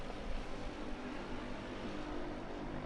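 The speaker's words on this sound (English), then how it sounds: "The engine's on tick over." A light aircraft engine ticks over at idle in flight, giving a steady, even drone with a constant hum and no voices.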